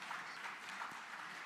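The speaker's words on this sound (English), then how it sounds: "So clap for me because I am a very young man." An audience at an African blue economy conference claps steadily, a moderate continuous patter of hands filling the hall without any voices.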